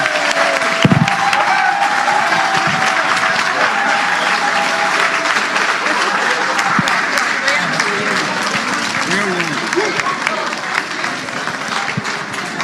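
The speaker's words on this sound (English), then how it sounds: "Let's give Honorable a big hand of applause again" A large crowd at a political party rally applauds and cheers loudly and continuously, dense clapping with shouts and voices mixed in throughout.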